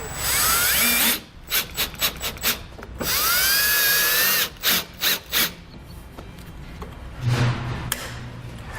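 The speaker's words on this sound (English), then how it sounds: "I'm going to screw my plug directly into that post that's on my base plate." A power drill drives a self-tapping screw into a post on a tow bar base plate during installation of a Roadmaster towed-vehicle wiring kit. Loud, close whirring comes in long runs and several quick bursts, with short pauses between.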